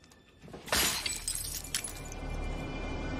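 Stained glass shatters in a TV show scene, a sharp, loud crash followed by tinkling shards and a second smaller break, then a low, steady background rumble.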